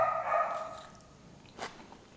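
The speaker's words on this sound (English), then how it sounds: "The dog's barking, I don't know why." A dog barking once, briefly and fairly distant, in a quiet home interior, a single short bark after a faint tonal hum fades.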